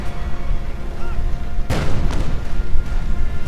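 A single sharp cannon blast from a T-70 tank rings out amid battlefield noise in the Company of Heroes 2 video game, followed by a few fainter distant shots and a steady background rumble.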